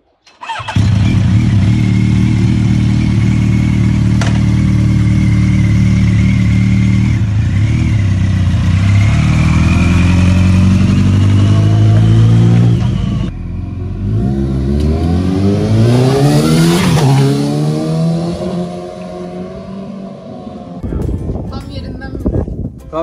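A powerful motorcycle revs and accelerates hard while being ridden, its engine note climbing through gear changes and staying loud and close, with a rider's voice talking at times over the engine.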